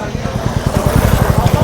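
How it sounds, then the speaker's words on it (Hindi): Motorcycles pull up at a roadside dhaba by a town square during a solo ride from Delhi to Almora, their engines throbbing in close, rapid pulses for a moment. "भाई और लोग भी आते हैं, देखो बाइक पे।"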